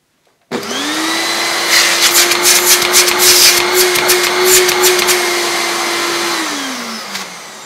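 A vintage 1990s Electrolux Z1863 cylinder vacuum cleaner switches on abruptly, holds a loud steady whining drone with brief rattling bursts as it sucks, then winds down near the end.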